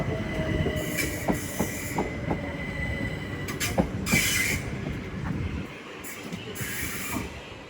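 Southern Class 377 electric multiple unit pulling out of East Croydon station, its wheels clicking over rail joints and squealing in brief high bursts, with a steady rumble that fades as the train moves away.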